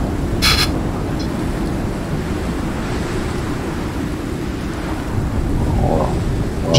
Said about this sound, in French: Il y a un orage qui arrive en plus